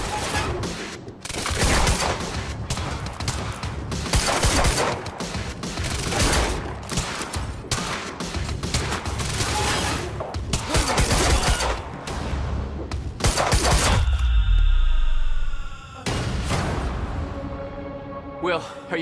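Gunfire in the video game Quantum Break, sustained bursts of automatic shooting and heavy impacts over a loud chaotic firefight that dies into a ringing tail near the end, with characters shouting throughout.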